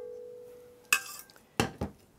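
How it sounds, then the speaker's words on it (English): A spatula scrapes browned butter from the bottom of a metal pot into a stand mixer bowl, giving three quick, soft scraping and clinking strokes in a quiet kitchen. "scrape the bottom of the pot and get all of that brown goodness off of the bottom"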